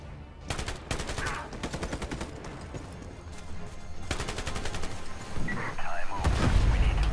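Rapid bursts of gunfire in the game Ironsight, several volleys of quick shots with booming impacts, loud and close, with a voice talking intermittently underneath.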